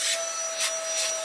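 A vacuum cleaner hoses dust from inside a desktop PC case, giving a steady whining hiss with a thin constant tone and three soft bursts of rubbing suction, close and fairly quiet.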